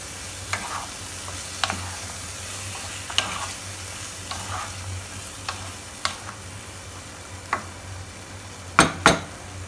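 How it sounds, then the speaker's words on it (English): Beans and potatoes frying in a pan with salt and sugar, a steady low sizzle broken by several sharp scrapes and clinks of a spoon stirring, with two louder knocks near the end and no voices. "Let them fry for a while."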